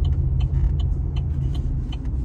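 Interior of a 2016 Chevy SS, also sold as the Holden Commodore, driving home from a car wash: a steady, loud low engine and road rumble runs throughout, with faint higher clicks above it.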